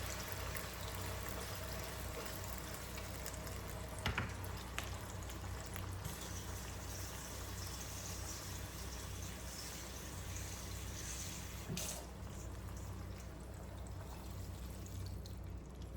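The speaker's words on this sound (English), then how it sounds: "you're just gonna add the water for it to start cook down" Water is poured into a pot of Jamaican curry chicken, a soft, continuous splashing trickle with a few faint clinks, quiet and steady throughout with no talking.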